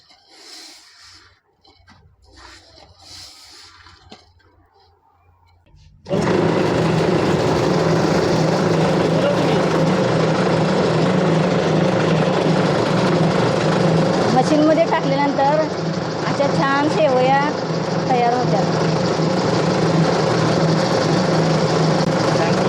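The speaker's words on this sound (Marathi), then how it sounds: "अशा व्यवस्थित शेवया मशीनमधून बाहेर येतात" A rava vermicelli (shevai) making machine starts after a few quiet seconds with faint sounds, then runs as a loud, steady motor drone that continues to the end, with a voice briefly heard over it partway through.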